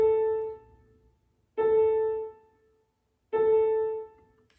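An added voice strikes a single repeated note at the beginning of each measure, three evenly spaced clear tones, each ringing and decaying before the next, heard alone.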